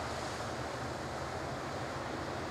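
Hurricane-force wind roars steadily through trees on a cold late-May morning in Barnaul, a dense, continuous rushing with no break and no voices.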